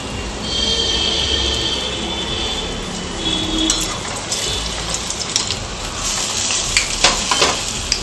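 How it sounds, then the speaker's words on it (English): Dahi vadas deep fry in hot oil, a loud, dense, continuous bubbling hiss close by, with occasional clinks toward the end. "Now let us fry it on the opposite side."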